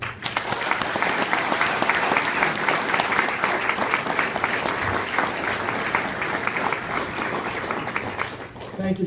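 Sustained, steady applause from a large crowd at a sheriff's dedication ceremony, filling the room for several seconds before tapering off at the end.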